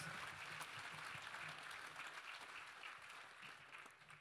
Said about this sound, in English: Let's give God a clap offering of praise tonight.